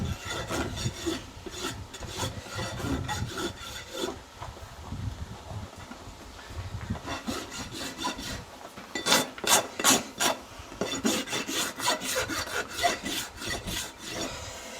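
A farrier's rasp dresses a Peruvian Paso horse's hoof with repeated rhythmic scraping strokes. They come close and fairly loud, in steady bursts with short pauses between runs.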